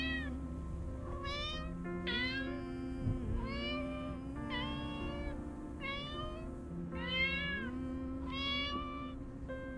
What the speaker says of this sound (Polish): Tylko mogę pomiałczyć.